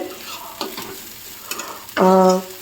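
Onions stirred and frying in a pan for pav bhaji, with soft scraping stirs early on, then a loud sustained sizzle over the last half-second, no talking.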